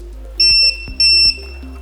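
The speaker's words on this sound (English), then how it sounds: "Buzzer beeps twice" A Nice DC Blue Astute garage door operator's buzzer gives two short, clear electronic beeps in quick succession, close and loud against a low background hum.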